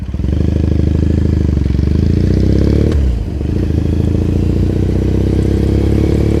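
A motorcycle riding through Ginza in Tokyo on a Saturday, its engine droning loud and steady from the rider's position, dipping briefly near the middle before settling back to a constant hum.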